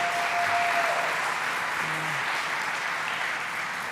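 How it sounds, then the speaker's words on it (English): Audience applause for the Lieutenant Governor at a New York gun-law bill signing, sustained even clapping from a large room crowd, loud and unbroken throughout. "Let's give him a round of applause."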